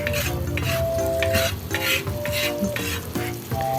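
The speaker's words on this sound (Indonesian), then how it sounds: "ditumis bersamaan dengan tadi bumbu halusnya" Garlic and shallots sautéed with ground spice paste in a pan, a steady close sizzle with rhythmic stirring scrapes and light utensil clinks throughout.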